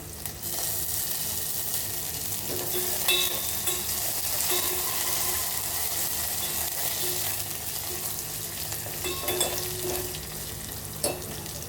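A spoon stirs a pan of sizzling tempering with crushed green chilli, ginger and coriander for buttermilk curry (kadhi), giving a steady frying crackle broken by close scraping and clinking strokes throughout, with no voices.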